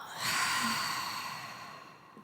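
A single long, deep exhale during a guided breathing exercise, a soft airy rush that swells quickly and then slowly fades out.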